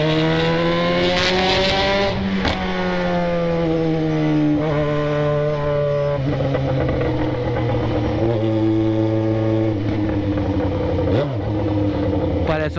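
Yamaha XJ6 motorcycle with an aftermarket exhaust pipe revving on a city street at night, a loud, close, sustained engine note sweeping up and down through repeated revs, with voices talking over it.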